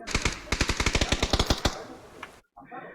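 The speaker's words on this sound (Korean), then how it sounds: "저 총소리가 지금 적군 총소리예요" Enemy gunfire in a shooter video game: a rapid automatic burst of loud, closely spaced shots rattling for over a second, then a quieter lingering tail, a brief silence and faint game sounds.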